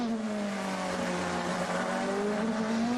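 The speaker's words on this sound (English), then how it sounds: "just listen to the sound, the engine note, because the Toyota we can hear" Toyota prototype race car at the 2013 24 Hours of Le Mans, its engine note droning steadily and loud throughout, with a rising and falling harmonic pitch as it works under power, no voices present.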